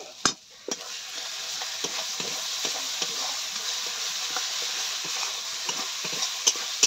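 Chicken masala frying in a pan, a steady close sizzle with intermittent stirring scrapes and a few sharper clinks throughout, no talking.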